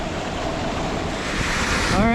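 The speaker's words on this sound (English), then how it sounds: "Bigwood Creek, another amazing waterfall here." Rushing water from Bigwood Creek and its waterfall in Big Sur, a loud steady broadband roar filling the whole clip with no break.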